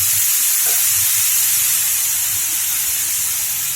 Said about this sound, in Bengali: এদিকে কড়া বসিয়ে দিয়েছি কড়ার মধ্যে নারকেল দিয়ে দেবো